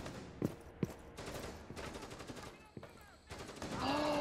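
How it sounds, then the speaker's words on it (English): Gunfire in Rainbow Six Siege: two sharp single shots followed by bursts of rapid fire, heard under a player's voice chat and game noise. "I'm getting shot at."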